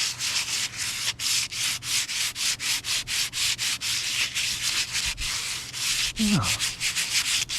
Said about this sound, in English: I'll take the sanding pad and I'll show you what I mean here.